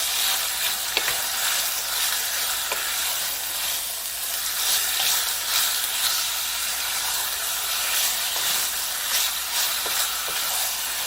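Beef tips browning in a pan give a steady, close sizzling hiss that holds evenly throughout, with a few faint clicks and no voices.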